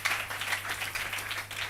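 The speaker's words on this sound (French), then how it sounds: "Applaudissons très fort le Seigneur Jésus-Christ." A church congregation applauds in a steady burst of massed clapping, dense and even throughout a brief moment.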